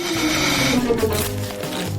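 A small handheld vacuum gadget switches on in a home kitchen, giving a steady, close mechanical buzz that holds without a break for about two seconds.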